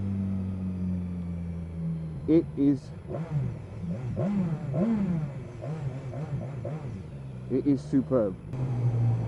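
A 2015 BMW S1000XR sport-touring motorcycle's exhaust drones steadily while riding, with brief revs and surges partway through, mostly under a rider talking throughout.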